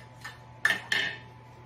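A utensil clinks against a container while stirring roasted red pepper hummus: two sharp taps close by after a softer one, quiet overall with no voices.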